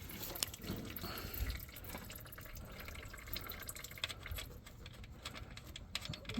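Motor oil drains from a 2016 Volkswagen Jetta into a drain pan, a faint, continuous trickling and dripping close by, with small splashes and no talking.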